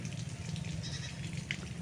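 Goats and kids at a rural farm bleat briefly and faintly at a distance over a low, steady background rumble, with a single short call near the end.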